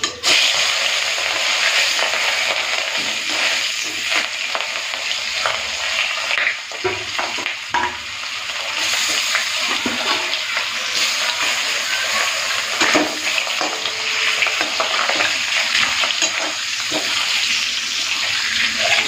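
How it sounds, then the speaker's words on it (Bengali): Rohu fish belly pieces fry in smoking-hot mustard oil, giving a loud, steady sizzle that runs the whole time, with no talking. "তো গরম তেলে মাছের পেটিগুলো দিয়ে দিয়েছি, এরপরে উল্টে পাল্টে মাছগুলোকে লাল করে ভেজে নেব।"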